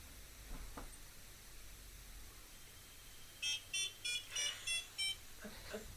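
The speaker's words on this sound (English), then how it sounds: "Both alarms are going off at once." Ghost hunting equipment alarms beep in a quick run of about six sharp electronic tones near the end, following a quiet stretch of room tone and faint background noise.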